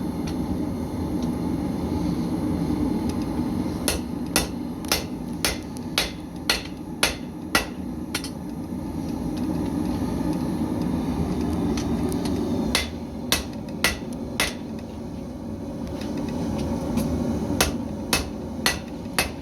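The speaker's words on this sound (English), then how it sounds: "You're letting the anvil and the hammer do a good portion of the work." A blacksmith's hammer strikes an anvil in sharp metallic rings, in bursts of rhythmic blows separated by pauses, over a steady low background hum.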